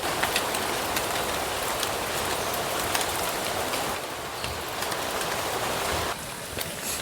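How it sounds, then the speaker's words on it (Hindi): The Mandakini river flows fast in a dense forest setting near Chitrakoot, a loud, continuous broadband rush of water that fills the whole stretch without pause. "दर्शन कीजिए पवित्र पावन माँ मंदाकिनी मैया के, काफ़ी तेज़ प्रवाहित हो रही हैं"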